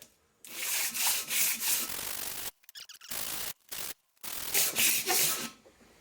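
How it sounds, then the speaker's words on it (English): A cylinder head from a Mopar 5.9 Magnum engine being sanded on a sheet of 100 grit sandpaper laid over a wooden 4x4 block, giving loud rhythmic rasping strokes with short silent breaks between passes. "The key is to have a sheet of sandpaper and a board that is longer than the surface that you're trying to grind."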